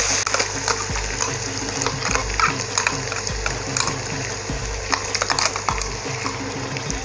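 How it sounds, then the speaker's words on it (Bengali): Ginger paste frying in a pan as it is stirred and turned, a steady close sizzle broken by repeated scraping strokes and light metallic clinks, with no voices. "ভালো করে নেড়ে চেড়ে নিচ্ছি যতক্ষণ না র ফ্লেভারটা চলে যাচ্ছে আদা থেকে।"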